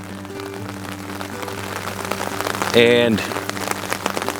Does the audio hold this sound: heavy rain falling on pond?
yes